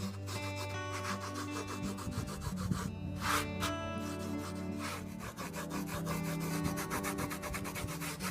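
A fingertip rubs repeatedly over drying paint on a DIY faux brick wall, making quiet, close, rhythmic scraping strokes throughout.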